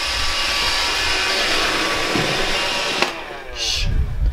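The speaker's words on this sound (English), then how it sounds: "Don't mind my robot vacuum going on down here." A robot vacuum cleaner runs across a freshly laid basement floor, giving a steady, close whirring hiss that holds through most of the clip before a sharp click and a brief drop, then a softer rumble.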